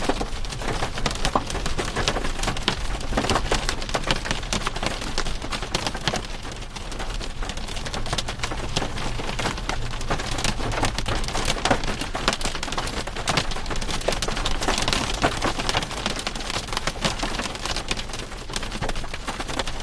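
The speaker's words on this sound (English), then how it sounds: "We can see that hail bouncing." Hail and heavy rain hammer down during a spring storm chase in Oklahoma and Texas, a loud, dense, unbroken roar of impacts that holds steady throughout.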